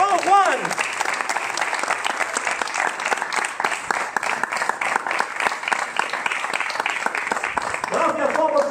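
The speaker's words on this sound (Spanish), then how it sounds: "y les damos un aplauso, claro que sí, Juan Garrido Canales" Dense, sustained applause from a crowd at a club anniversary event honoring a former goalkeeper, loud and continuous for several seconds with voices faintly underneath.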